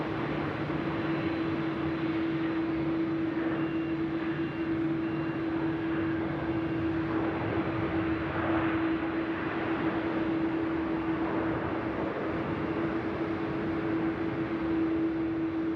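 A Qantas airliner in retro livery coming in to land at Sydney Airport at night, a steady distant jet roar with a constant engine whine running throughout, broad and even with no speech.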